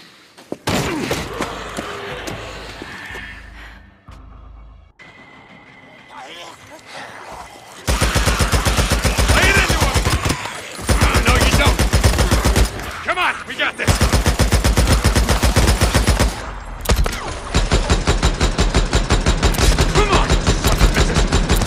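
Sustained automatic gunfire in the video game Days Gone, a loud, rapid stream of shots that runs in long stretches with brief breaks, following a quieter opening with a few scattered thumps.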